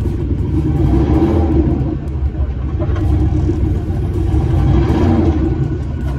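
Lowered 4x4 street truck stuck in a snowy driveway, its engine held at a steady high-throttle rev, a loud continuous low rumble with slight swells and no letup.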